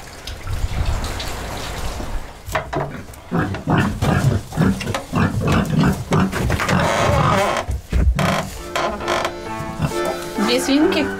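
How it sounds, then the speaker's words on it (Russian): Two small pigs grunt and snuffle close by on a rural farmstead in Zaozerye, Belarus, irregular low grunts and shuffling with creaks and knocks, a bright squeal-like tone near the end. "Две свинки."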